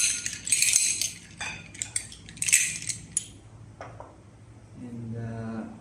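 Fresh clams set one by one onto a microwavable plate, their shells giving a string of close, sharp clinks and clatters that taper off into quiet, with a low hum in the room.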